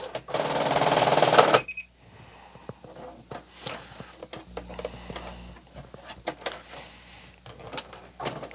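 A Singer Heavy Duty 6800C sewing machine runs in a fast continuous burst while sewing a leather pouch, then stops, followed by faint clicks, taps and handling noises nearby.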